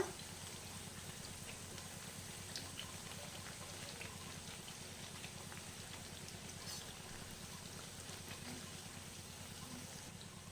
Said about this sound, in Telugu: రెండు వైపులా అటు ఇటు తింపుతూ చక్కగా గోల్డెన్ కలర్ వచ్చే వరకు ఫ్రై చేసుకోవాలి